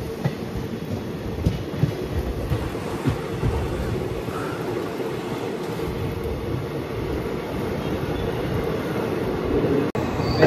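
A train at Yeshwantpur railway station in Bengaluru makes a steady low rumble with rattling wheels, continuous and moderately loud, with a sharp knock near the end.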